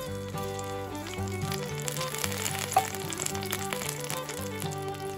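Chilies dropped into frying masala with cloves, cardamom and cinnamon for a boiled egg fry, a loud continuous sizzle and crackle of hot oil, heard under background music.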